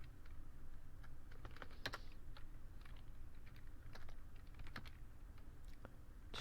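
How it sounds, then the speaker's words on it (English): Soft, quick typing on a computer keyboard while writing Google Apps Script code, irregular key clicks over a low steady background hum, faint and close, with no talking. "just give me a second to type this out before I explain."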